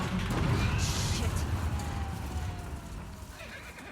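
Horse neighing and whinnying in The Last of Us Part 2 video game, a loud close call over clip-clopping hooves and busy game noise, with voices talking throughout.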